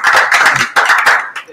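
Bursts of hand clapping from a group, two loud waves of applause with a brief dip between, fading at the end.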